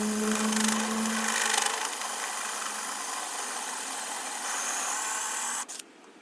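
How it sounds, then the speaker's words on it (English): A 1.25-inch hole saw for metal bores through the sheet metal of a school bus door for a lock, a loud steady grinding whine that runs several seconds, then cuts off abruptly. "So we're gonna drill our hole here to be able to put our lock through."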